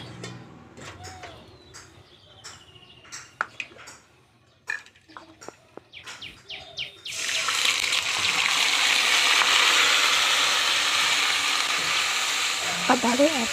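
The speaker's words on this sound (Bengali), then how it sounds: "আবারও একবারে সুন্দরভাবে সবগুলো নেড়ে নিলাম" Spice paste stirred and fried in a pan for homemade pulao: intermittent scraping clicks at first, then a loud, steady sizzle swells in and holds continuously to the end.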